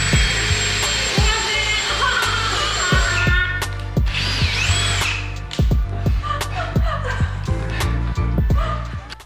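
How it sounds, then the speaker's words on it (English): A power drill whirs in repeated short bursts with brief pauses between, drilling pocket holes in wood, close by, alongside clatter and knocks of workshop handling. "we started drilling for our pocket holes"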